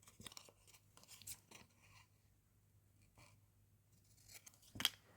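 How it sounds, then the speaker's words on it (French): Scissors snip the top of a paper gluing flap at a bevel, leaving a few quiet crisp cuts in close succession, a pause, then a couple more snips, with no talking. "Je vais découper le haut de ma pâte de collage là aussi en biseau."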